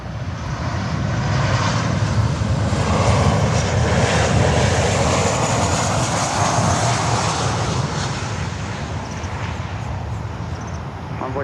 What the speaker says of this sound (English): American Airlines flight 1639 coming in from Punta Cana